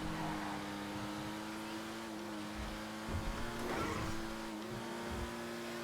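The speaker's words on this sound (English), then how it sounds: "It's an Aston Martin V12 and it sounds so aggressive." Aston Martin Vanquish Zagato V12 engine in the GTA V video game revving with a steady droning tone and a couple of louder rises, heard close and continuous with no talking over it.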